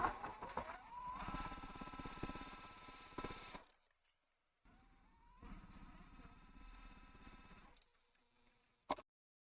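A sewing machine set to a 1.8 millimeter stitch length runs along quilt strips in two long stretches, the first louder, separated by a pause and ending with a short click.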